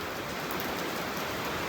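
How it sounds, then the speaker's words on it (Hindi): Heavy rain pouring down in Manali, with hail starting to fall among it. A dense, steady hiss of close downpour runs unbroken throughout, and no distinct hailstone impacts stand out from it. "मम्मी, ओले पड़ने स्टार्ट हो गए"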